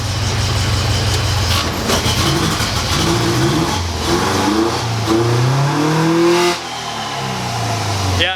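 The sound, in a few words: car engine revving while driving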